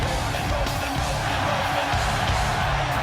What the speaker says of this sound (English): Crowd loving it.